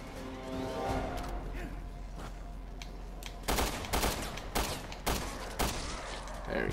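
Four or five sharp, loud gunshots in Resident Evil Revelations 2, spaced about half a second apart after a stretch of quieter game ambience, with faint talk earlier.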